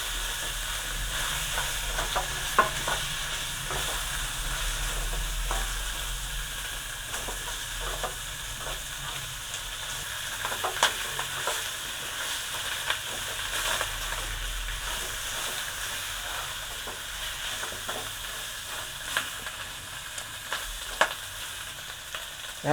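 Pork hock pieces frying in a pan after sautéing with salt, giving a steady broadband sizzle with occasional stirring clatter and pops, moderately close and continuous with no talking.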